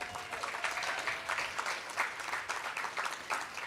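A crowd at an outdoor affordable housing opening celebration in Long Beach applauds the mayor, a soft, distant, steady clatter of many hands with slight swells.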